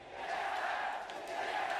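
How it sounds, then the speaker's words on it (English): Chinese crowd at the 2017 League of Legends World Championship quarterfinal chanting for TSM, a steady, dense roar of many voices filling the arena without a break. "the TSM chants out of the Chinese crowd"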